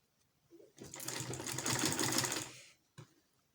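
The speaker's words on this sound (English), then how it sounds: "then sew on the lines" A sewing machine runs in a single steady burst of rapid stitching for about two seconds along chalk-marked lines on bustier fabric, close and clear, with a faint click before and after.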